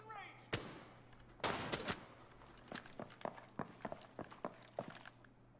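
Gunfire from aim drills in the video game Rainbow Six Siege, sharp separate shots, an early single crack and a quick burst, then a steady series of spaced shots, fairly quiet overall.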